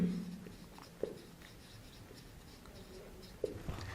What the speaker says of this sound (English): let me write it shortly